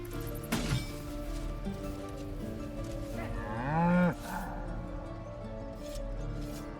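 An ox in Baldur's Gate 3 lets out a loud, drawn-out moo that rises and swells near the listener before fading, with quieter in-game ambience around it and a faint short call earlier.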